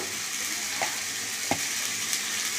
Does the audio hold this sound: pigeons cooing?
no